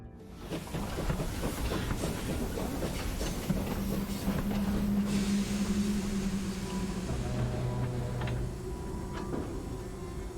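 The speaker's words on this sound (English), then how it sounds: "It's the train!" A train pulls into a station in the farming-life video game My Time at Sandrock, with a steady rumble, rattling carriages and a long low brake hum fading near the end, heard alone and close.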